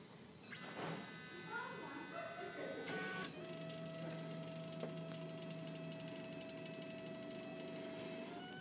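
A 3D printer printing a plastic hockey stick whirs steadily, its stepper motors giving sustained tonal hums that shift pitch as the head moves, with a few clicks. A voice speaks briefly.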